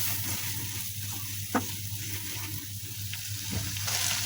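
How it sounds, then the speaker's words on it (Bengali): Spices sauté in a pan for prawn malaikari, a steady close sizzle with a low hum beneath and a couple of brief scraping clicks from stirring. "সবগুলো মশলা আমি ভালো মতো কষিয়ে নিব"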